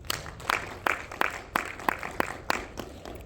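A small scattering of hands claps at a fall company meeting: about nine separate, fairly faint claps spread unevenly across a few seconds, with no sustained applause building up.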